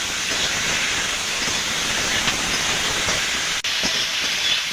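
Mustard, cumin and green chili paste sizzles steadily in a hot pan while fish curry with potatoes and drumsticks cooks, a constant loud hiss with a few faint pops near the end.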